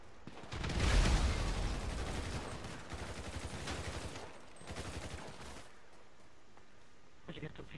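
Gunfire in GTA V, a heavy burst of rapid shots building early and then continuing more thinly before fading into quieter game ambience, with faint distant pops near the end.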